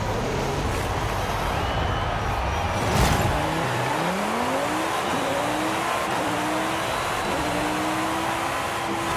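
A 2020 Chevrolet Corvette Stingray Coupé in Forza Horizon 5 on an oval circuit, its engine droning loud and steady with rising gear-change sweeps and a brief whoosh, no talking.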